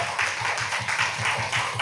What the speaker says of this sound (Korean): 우리 하나님께 영광의 박수 한번 올려드릴까요?